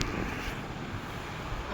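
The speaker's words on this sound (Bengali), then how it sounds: "মানে বাতাসের এত শব্দ, মানে তীব্র বাতাস।" Strong, gusty wind blows against the microphone in a room during a rainy spell, a steady loud broadband rush with low rumble that fills the whole stretch, with no voices over it.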